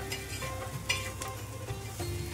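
Spices and onions sauté in a pan for spicy vangyache bharit, a steady close sizzle and crackle with light stirring scrapes, no voices.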